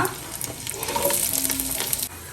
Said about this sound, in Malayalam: ഞാനിതിലേക്ക് ഉള്ളി ഇട്ട് കൊടുക്കുന്നുണ്ട്, സവാള.